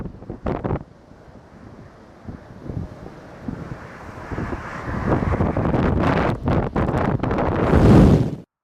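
Strong crosswind gusts roar and buffet the microphone during a jet's landing approach to the runway, rising from a low rumble into heavy, surging blasts that peak loudly near the end.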